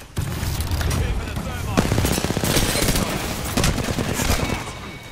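Rapid gunfire and weapon bursts in an Apex Legends battle, loud and continuous with dense automatic fire and booming impacts throughout.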